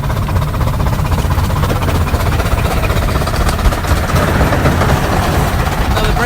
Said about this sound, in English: Injector back on again.